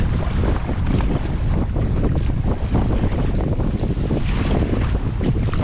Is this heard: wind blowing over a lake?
yes